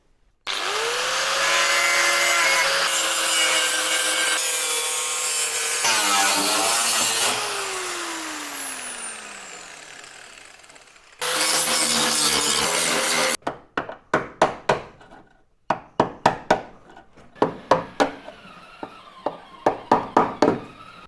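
An angle grinder strips rust from Mk2 Ford Fiesta bodywork under restoration: a long, loud whining grind that winds down, then a second sustained burst, followed by a run of short, sharp intermittent grinding bursts.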